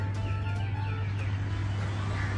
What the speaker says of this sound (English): I'm liking the chirping of birds.